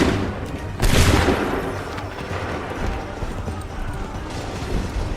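Musket volley gunfire in the video game Assassin's Creed III, a dense crackling burst near the one-second mark that fades into a rumbling battle din with scattered shots.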